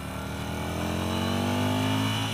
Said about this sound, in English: I want to see how bad the rev limiter hits.